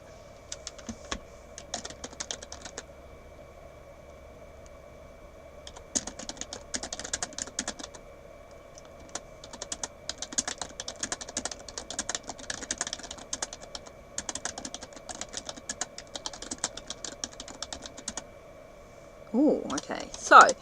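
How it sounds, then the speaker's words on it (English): Bursts of clicky computer keyboard typing come in quick clusters throughout, with brief pauses between runs and a steady low hum underneath, the keys close and moderately loud. "let me type this in here."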